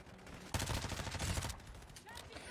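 Rapid submachine gun fire in a video game, a dense burst of shots lasting about a second, loud and close, followed by quieter game sounds.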